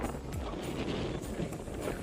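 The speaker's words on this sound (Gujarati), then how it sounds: "બહુ પવન છે." Strong wind buffets the microphone outdoors near a salty-water area by a temple, a steady low rumble with gusty swells across the short stretch and no speech.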